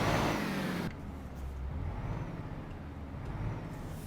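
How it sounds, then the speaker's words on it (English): A Volvo FH truck fitted with a Cummins engine, simulated in Euro Truck Simulator 2, idles with a low steady rumble after a brief louder burst at the start. "I went with the Cummins engine, which sounds very nice, very powerful it sounds."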